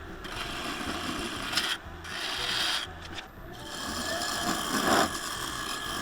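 A skew chisel cuts and cleans up the foot of a wooden piece spinning on a lathe, a close continuous scraping rasp with brief lulls where the tool lifts off.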